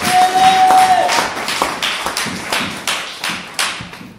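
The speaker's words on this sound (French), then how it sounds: "Applaudissons pour l'homme de Dieu." A church congregation clapping, with loud uneven claps and taps at first that settle into a few separate, sharp rhythmic claps fading toward the end.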